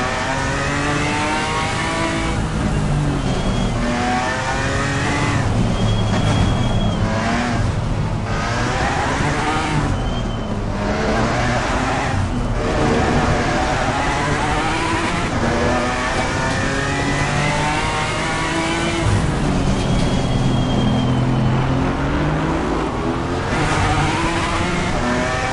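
Race car engine in Assetto Corsa Competizione, a GT4 car lapping Oulton Park, revving up and down through gear changes with occasional tire squeal, loud and continuous throughout with no talk.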